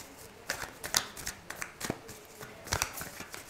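Tarot cards are shuffled by hand in quiet, soft bursts of riffling and slapping, with no voices.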